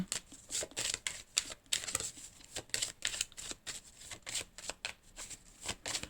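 A deck of cards is shuffled for a card reading, with quick rhythmic riffles and flicks repeating in short bursts, soft and close with no talk.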